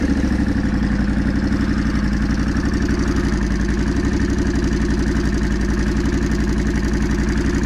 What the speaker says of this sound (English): that is my homemade exhaust